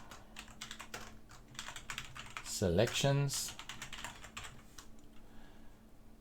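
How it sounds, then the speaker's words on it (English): Computer keyboard keys are typed in quick, light, irregular clicks, close but faint, with a brief spoken word in the middle. "So we can just press G on the keyboard."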